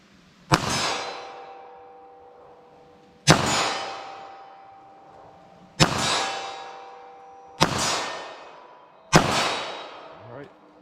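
Five shots from a .380 ACP pistol firing Federal Hydra-Shok ammunition ring out, evenly spaced a couple of seconds apart, each a loud sharp crack followed by a ringing echo that trails off outdoors.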